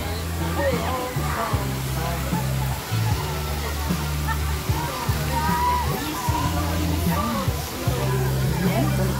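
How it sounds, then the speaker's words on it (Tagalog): Water flows and sloshes continuously through resort swimming pools, with a steady broad rush and splashes while people talk and chatter in the background. "Dumadaloy din ang tubig."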